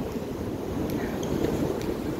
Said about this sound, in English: Real windy today, so it may be difficult to hear me